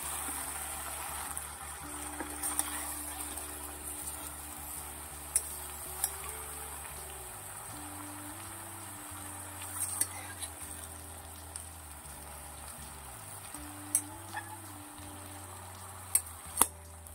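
Mixed vegetable sabji is stirred in a pan over a steady soft sizzle, with a spoon scraping and clinking against the metal at irregular intervals and a low background hum underneath.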